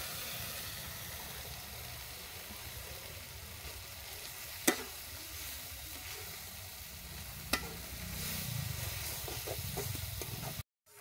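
Banana flower paste frying with spices in a pan, a soft, low, continuous sizzle and hiss with a couple of sharp utensil taps and faint stirring, quiet and close, no voices.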